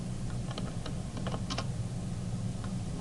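Light, quick keystrokes on a computer keyboard while entering commands in AutoCAD, a few scattered clicks over a steady background hiss with no talking.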